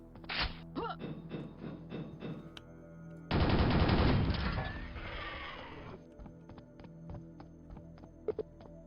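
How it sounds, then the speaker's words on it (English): A shotgun in a Quake map from Brutalist Jam 3 fires at the player: sharp shots early on, then a loud, dense burst of blasts lasting about a second, fading into quieter game noise with a few later clicks. "that shotgun is shooting me"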